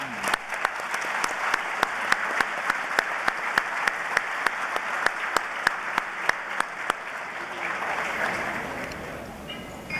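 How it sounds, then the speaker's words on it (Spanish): Loud, sustained applause from a dinner audience welcoming Luis Almagro at an anniversary gala, steady clapping with sharp individual claps standing out, fading slightly toward the end. "Así que recibámoslo con un fuerte aplauso."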